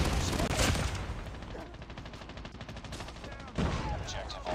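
Sniper and other gunfire in the Call of Duty Mobile video game: loud rapid bursts of shots at the start and end, with a dense rattling run of fire between, alone and close.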